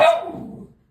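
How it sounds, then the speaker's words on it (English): A single sharp dog bark close by, loud and brief, fading quickly into silence with no talk. "Sorry, that is my dog."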